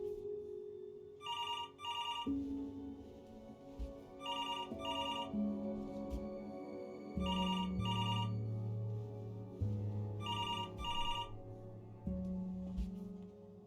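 A telephone rings in repeated paired bursts, four rings evenly spaced, over a sustained low musical drone that shifts pitch underneath.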